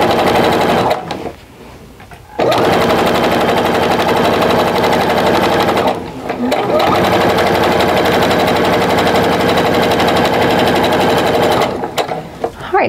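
A sewing machine stitches quilt pieces in fast rattling bursts, running steadily with brief pauses between seams, close and loud.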